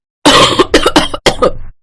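A person coughs in a smoke-filled house, a close, loud burst of three or four harsh, rough coughs with short pauses between them.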